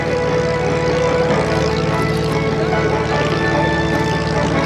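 A 1911 Curtiss Pusher replica airplane flies at the 2011 Naval Air Station Oceana air show, its engine giving a loud, continuous droning roar that stays steady and close for the whole stretch.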